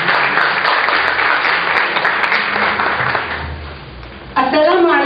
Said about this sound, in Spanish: Así que fuerte el aplauso para Faiza y la dejamos en manos de ella.